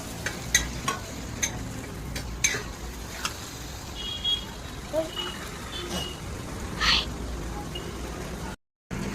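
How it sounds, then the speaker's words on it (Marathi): Turmeric, coriander powder, red chilli and black masala sautéed in oil with ground paste, a gentle sizzle under repeated stirring taps and spoon knocks against the pan. "हळद, धना पावडर, लाल तिखट, काळा मसाला हे सगळे मसाले आपण इथे टाकून घ्यायचे आहेत आणि हे छान असं परतवून घ्यायचं आहे"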